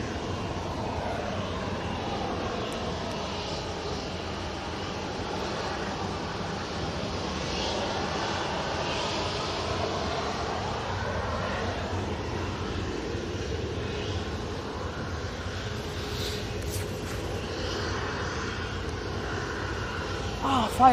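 Ryanair jet airliner at Manchester Airport, a moderate continuous engine drone with sweeping whines that rise and fall in pitch as it moves, under intermittent talking.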